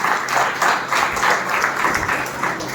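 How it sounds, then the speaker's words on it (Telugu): Audience clapping at a motivational meeting for first-time attendees, a loose rhythmic patter of many hands pulsing together, fairly loud and close, with no talk over it. "చాలా గ్రేట్, క్లాప్ ఇవ్వచ్చు మీకు."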